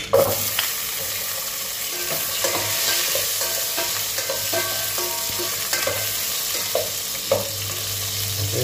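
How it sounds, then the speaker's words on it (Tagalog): Onions fry in hot oil for pinakbet, a steady close sizzle with repeated scraping stirs of a spatula against the pan and no speech. "lalagyan natin yung sibuyas Unahin natin sibuyas"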